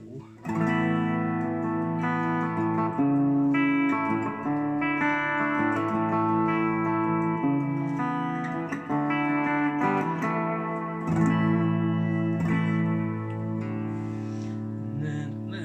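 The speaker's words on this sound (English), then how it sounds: "So I've got it on the spring reverb." An electric guitar plays through a spring reverb effect, sustained chords and notes ringing out with a washy tail, close and fairly loud with no talking.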